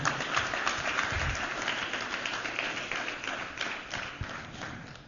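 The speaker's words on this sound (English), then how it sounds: "Let's give it a good round of applause for Matthew" A crowd applauds at an economics conference speech, steady clapping that stays fairly even and then slowly thins toward the end, with occasional low thuds.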